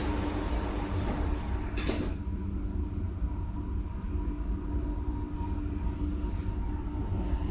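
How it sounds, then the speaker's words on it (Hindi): Dubai Metro train doors shut with a single brief thump, then the steady rumble and hum of the moving train carries on inside the carriage. "Doors closing."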